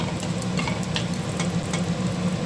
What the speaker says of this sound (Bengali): তেল দিয়ে ফোড়ন দিয়ে দিচ্ছি জিরে